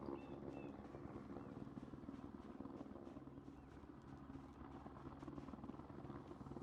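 A helicopter hovers in a survival video game, a steady, dense rotor chop with a low throbbing drone that stays unbroken and fairly faint, as if at some distance, with no talking over it.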